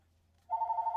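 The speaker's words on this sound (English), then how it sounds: "Let's let this phone stop ringing." A telephone bell begins ringing about halfway through, a steady warbling tone heard alone over a faint low hum.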